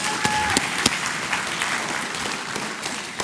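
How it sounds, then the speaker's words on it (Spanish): A church congregation at a Spanish-language worship service claps in a dense, sustained burst. Many hands sound close and loud, with a few sharper claps standing out. "Ese aplauso bíblico allí."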